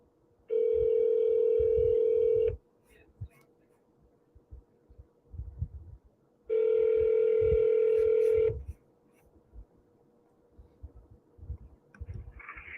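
A telephone rings while a call is placed to leave a voicemail, two loud steady two-second ring tones several seconds apart, with soft low thumps and background noise between them.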